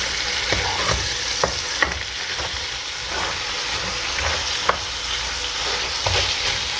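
Ossobuco beef sizzles steadily in tomato sauce in a pan, a constant close frying hiss with small pops and occasional stirring clicks.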